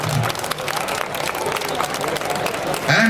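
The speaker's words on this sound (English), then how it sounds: "Big round of applause for Sue Humphreys" Applause from a crowd at a dragon boat championship closing ceremony, a steady dense wash of clapping and babble carrying on throughout.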